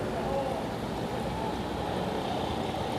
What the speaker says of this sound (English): Very quick running water too. Sounds very nice.